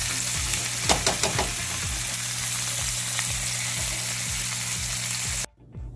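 Sausage and vegetables with tomato paste sizzling in a pan, a steady close frying hiss with a few clicks and spits early on, running alone until it cuts off abruptly near the end.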